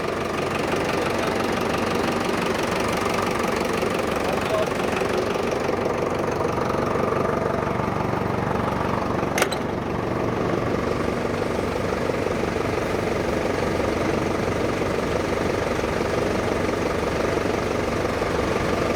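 A Dongfeng 904 E tractor's engine running at a steady, moderate idle, a continuous close rumble with a faint knocking texture and no change in pace throughout.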